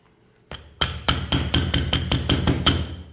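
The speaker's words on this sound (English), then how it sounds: "I'm gonna use that to drive the bushing back into the tube." A hammer strikes an 1-1/16 socket to drive a fork bushing into a Honda Monkey fork tube, about ten sharp, ringing metallic blows in a steady rhythm, close and loud.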